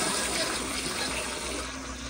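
A 2009 elongated Proflo Gilpin pressure-assist toilet flushes with a loud, forceful rush of water close by, a dense continuous gush that eases off only slightly as it runs.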